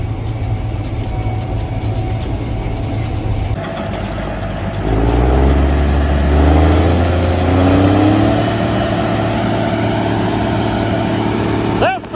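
A Case combine harvester's big engine drones steadily while working a bean field, its heavy rumble deepening and swelling partway through as the load increases, loud and close, with a voice speaking briefly over it.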